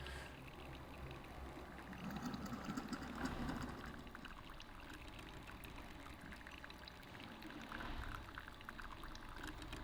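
An XBloom automated pour-over coffee brewer pours water in a faint, steady trickle, with a soft mechanical hum beneath and a slightly louder pouring swell midway, and no one speaking.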